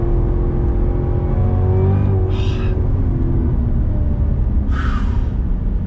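A Cadillac CTS-V sedan accelerates hard, its engine a steady, heavy low rumble with a rising drone heard from inside the car, steady and loud throughout.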